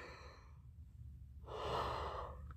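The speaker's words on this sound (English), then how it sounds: "Only time I yawn is when I'm doing a lesson." A person yawns, a soft drawn-out exhale that opens into a breathy rising sound near the end after a brief quiet gap, with no talk over it.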